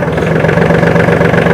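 A Swaraj Target 630 tractor's diesel engine runs steadily in first gear, a loud, close, continuous throb with an even pulsing rhythm and no talk.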